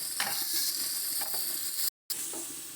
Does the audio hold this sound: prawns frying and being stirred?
yes